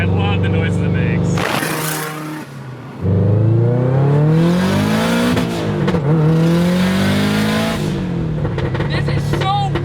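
A Subaru WRX-engined, all-wheel-drive Mazda Miata driving hard, its engine climbing and falling in pitch through revs as it accelerates, loud and close, with a brief dip around one gearchange.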